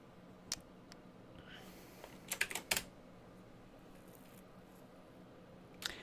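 Keys on a computer keyboard clack in a brief quick cluster with a few scattered single taps, faint and close over a quiet room hum.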